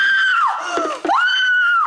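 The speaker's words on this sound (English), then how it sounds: "they cannot stand the pitch of my scream" A woman lets out a loud, high-pitched sustained scream in front of a live audience at a True Blood farewell show, a long shriek that dips briefly mid-way and then rises again, close and alone.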